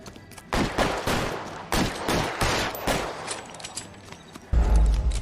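Gunfire in the L.A. Noire video game, a run of loud sharp shots fired in quick irregular bursts, followed by a heavy low rumble near the end.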